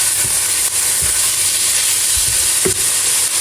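Yardlong beans being mixed with salt in a pan, a steady sizzling hiss with soft scraping stirs every second or so, close and fairly loud, no voices.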